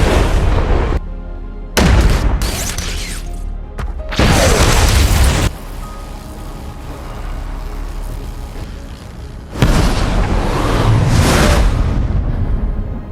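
Huge cinematic rocket explosions in a superhero film, several loud booming bursts separated by brief quieter gaps, with long rumbling tails and no talking.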